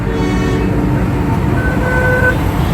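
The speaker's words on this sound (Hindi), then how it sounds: "ये इंजन है जनाब इसका।" A 1984 Honda Accord engine running steadily at idle, a loud continuous low rumble with a faint higher whine, heard alone and close.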